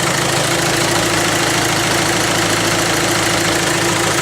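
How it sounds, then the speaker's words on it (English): A Mitsubishi Canter 4WD truck engine idling up close, a loud, steady, even diesel rumble throughout with no voices. "So that's at complete idle, it's putting out 10 amps at 24 volts."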